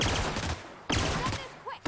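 Gunfire from a weapon in The Outer Worlds video game comes as loud, sharp bursts of rapid shots, with two distinct volleys close together.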